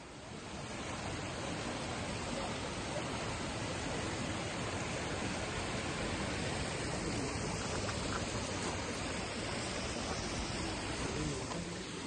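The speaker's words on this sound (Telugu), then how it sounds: "చాలా పెద్ద వాటర్ ఫాల్ అన్నమాట." Bridal Veil Falls, a very large, high waterfall in British Columbia, Canada, roars in a dense, constant rush of falling water that fills the whole scene at steady loudness.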